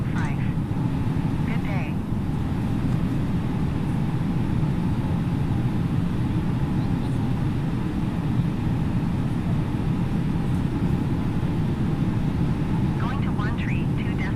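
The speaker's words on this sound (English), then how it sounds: "I now go silent and enjoy the takeoff" An Aer Lingus A330neo jet takes off in Microsoft Flight Simulator 2020 at Dublin, giving a steady, loud, continuous engine roar under short bursts of radio chatter.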